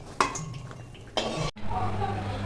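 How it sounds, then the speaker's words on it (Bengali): A metal spatula presses and scrapes fried malpua against a frying pan to squeeze out the oil, giving soft metallic clinks and scrapes over a low sizzle, close and fairly quiet. "এবার মালপোয়াগুলো তেলটা আমি খুন্তি দিয়ে এইভাবে চিপে তুলে নিচ্ছি।"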